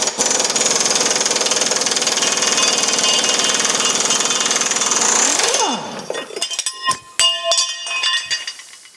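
Power tool loosens a big bolt on a BMW Z3 rear axle, a loud steady hammering whir running for about five seconds, then stopping and giving way to scattered metallic clinks and knocks.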